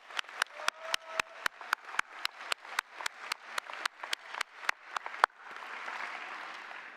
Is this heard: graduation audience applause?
yes